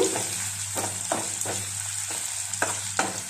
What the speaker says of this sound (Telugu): కొంచెం వేగాలి ఈ విధంగా ఏ వరకు వేయించుకోవాలండి